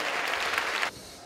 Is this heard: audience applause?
yes